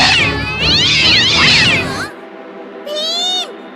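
Loud, drawn-out cat yowls and meows overlap for about two seconds, followed by a brief pause and one more high, wavering meow.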